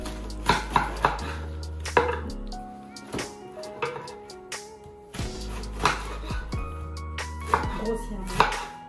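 Vegetables, including potatoes and ginger, are coarsely chopped with a knife on a board: irregular sharp close thuds and clacks, some in quick pairs, with faint clattering of kitchenware between them.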